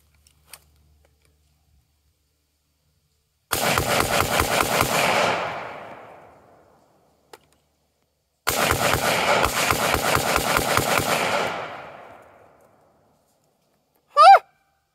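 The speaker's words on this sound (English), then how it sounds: "we're gonna unload like 5 to 6 rounds on this, because this is a semi-automatic." A semi-automatic rifle fires loud outdoor rounds in two rapid bursts a few seconds apart, each leaving a long rolling echo that fades, followed by a brief sharp call at the end.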